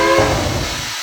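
A steam locomotive in Minecraft's Immersive Railroading mod starting to move, a short burst of hissing steam with a faint whistle-like tone at the start, fading out within about a second.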